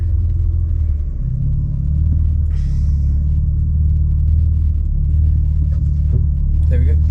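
BMW G80 M3 Competition launching hard at a drag strip with wheel spin: a loud, steady low engine rumble runs throughout, with a brief rush of higher noise early on and voices talking over it.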